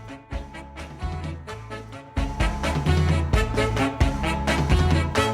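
Ska song by a band, full band with bass and rhythmic guitar chops, starting sparse and swelling louder after a couple of seconds.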